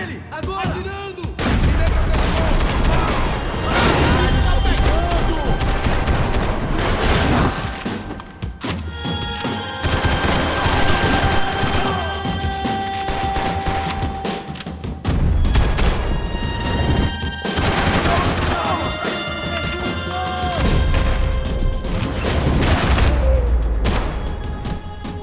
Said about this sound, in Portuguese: Atire nele! Agora! Atirando!